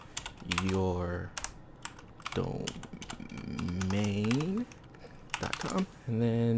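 Someone types a telnet command on a computer keyboard, quick clusters of clicking keystrokes in bursts, heard under and between a man's speech nearby.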